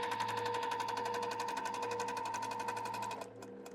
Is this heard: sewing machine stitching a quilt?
yes